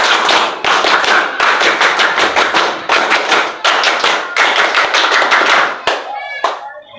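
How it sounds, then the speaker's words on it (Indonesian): Indonesian scout clap (tepuk pramuka) performed by a group of schoolchildren, loud close-up bursts of rhythmic group clapping in repeated patterned phrases with brief pauses, ending in a short trailing tail. "Silakan 2 kali tepuk pramuka."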